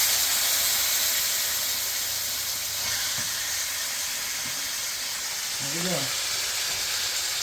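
Asian steamed vegetable medley sizzles in a 12-inch stainless steel frying pan, a steady broad hiss filling the whole stretch while someone speaks briefly over it.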